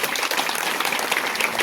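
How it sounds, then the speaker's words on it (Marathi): An audience at a kirtan gathering claps loudly, with dense, continuous applause that stays close and even throughout. "जोरात टाळ्या वाजल्या"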